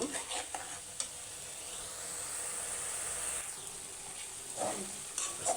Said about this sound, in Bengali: পেঁয়াজ আদা রসুন বাটাটাকে একটু ভালো করে ব্রাউন কালার করে নিয়েছি এভাবে তেলের মধ্যে ভেজে নিয়েছি